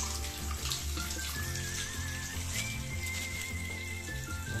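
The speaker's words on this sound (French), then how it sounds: "Petite caverne avec l'eau qui coule." Water trickling and running steadily inside a small, shallow cave on a mountain hike, a continuous close wash of flowing sound with faint whistling tones and no voices.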